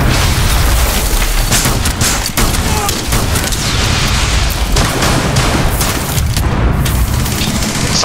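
A grenade blast in Rainbow Six Siege sits inside a dense wall of booming, rumbling game combat noise that stays loud throughout, with bursts of gunfire layered in.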